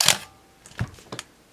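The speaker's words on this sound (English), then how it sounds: "what I thought I would do is step down through the shutter speeds all the way from 1/1000th and down" A Minolta X-700 35mm film SLR fires its shutter at 1/1000 second: one sharp mechanical snap up close, followed by a few faint clicks of handling and winding.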